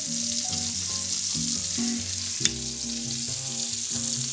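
Peppers sizzle and fry steadily in a hot pan as a club sandwich is being made, a continuous bright crackle running underneath soft background music, with one sharp clack partway through.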